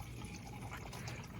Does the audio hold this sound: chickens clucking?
no